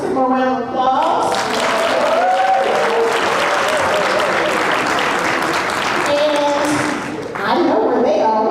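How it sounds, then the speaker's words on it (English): Applause and cheering from a live crowd at a Greensboro community festival, greeting UNCG family members; loud, dense clapping fills the whole stretch while a voice rises over it at moments. "Let's give them a round of applause."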